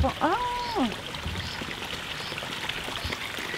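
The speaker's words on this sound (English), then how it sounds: "I can hear water." Water runs steadily in a garden with an established rockery, a soft, continuous trickling wash beneath occasional nearby voices and a brief birdlike whistle at the start.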